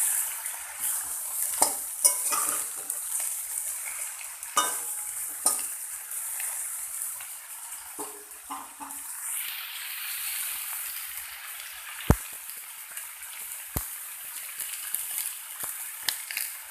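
Taro and dried fish fry in a pan under a continuous soft sizzle. Repeated scrapes and taps of a spoon stirring against the pan mark the frying, with a couple of sharper knocks later on.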